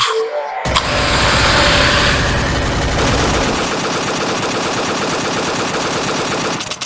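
A pressure washer gun for washing a Mahindra Thar Roxx at home starts up with a loud, steady hiss and rattling spray that runs continuously after a brief quiet moment, close by and alone.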